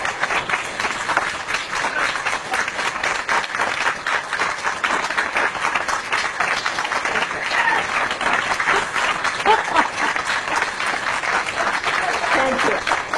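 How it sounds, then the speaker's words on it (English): Dense, steady applause from a large audience fills the whole stretch, many hands clapping at once with no break, loud and close, with faint voices mixed in. "save the applause till the end."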